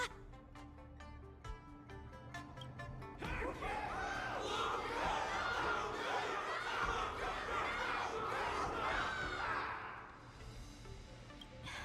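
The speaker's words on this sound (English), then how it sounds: "Everyone's cheering for you, Luca." A crowd cheering during a battle scene in the video game Honkai Star Rail, a dense, sustained roar of many voices swelling loudly after a few seconds of quieter sound, then fading near the end.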